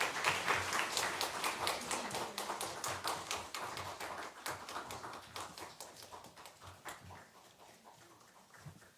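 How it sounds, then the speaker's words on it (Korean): A church congregation at a Korean Sunday worship service claps steadily together, a dense sustained round of applause that slowly thins and fades out. "회장할 때 혹시 박수로 격려해 주시기 바랍니다"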